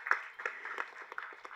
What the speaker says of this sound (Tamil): ஃபஸ்ட்டு அவருக்கு ஒரு கைதட்டு கொடுத்துருங்க எல்லாருமே